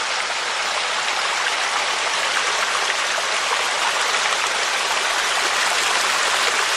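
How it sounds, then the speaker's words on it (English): A small waterfall tumbles in a stream near Bordners Cabin in Swatara State Park, Pennsylvania, giving a steady, close, full rushing roar that never lets up, with no voices. "So here we got a nice little waterfall"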